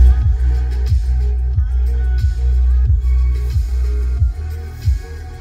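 Music with a steady thumping beat plays loudly through the factory audio system of a Toyota Veloz 1.5 Q, heard inside the car with no one talking.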